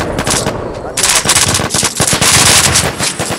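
Rapid automatic gunfire from an Infestation PvP shooter game, loud close bursts of repeated shots with brief pauses between volleys.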